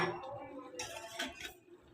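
A spoon stirs fried vermicelli (semai) in a pan, giving faint, sparse clinks and scrapes of utensil against metal over a quiet kitchen background.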